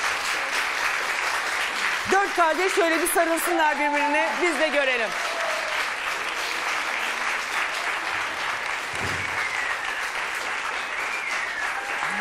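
A television studio audience applauds as three brothers are welcomed onto a Turkish talk show, with sustained clapping running beneath a man's speech and someone talking near the start.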